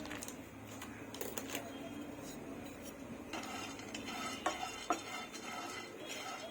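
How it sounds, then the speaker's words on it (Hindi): Pumpkin seeds dry-roasting in a pan over low flame, quiet rattling and scraping as they are stirred, with a few sharper clicks of seeds and spoon against the metal. "अब उसके बाद पम्पकिन सीड डालेंगे"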